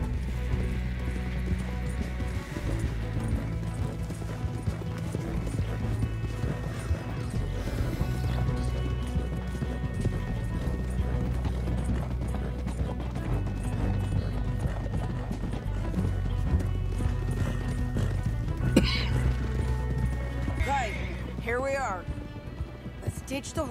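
Horses galloping in Red Dead Redemption 2, rapid rhythmic hoofbeats under a musical score, with a whinny and a few crashing sounds near the end.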